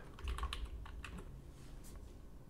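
An animation name typed on a computer keyboard in Roblox Studio, a brief cluster of soft, quiet key taps over low room hum.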